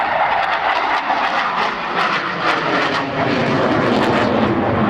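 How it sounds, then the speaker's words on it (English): A loud, roaring jet aircraft engine noise from two Rolls-Royce Avon engines fills the air continuously at an airshow, a broad powerful rumble and whine heard close up. "the amount of noise that those two Avons are going to put out"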